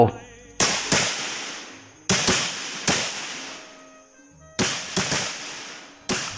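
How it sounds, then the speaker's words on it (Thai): Sharp AK rifle gunshots crack out in irregular bursts, loud and close, each followed by a ringing echo that fades away. "เสียงปืนอาก้าจากฝ่ายเรา ดังขึ้นอย่างสนั่นวันไหวอีกครั้ง"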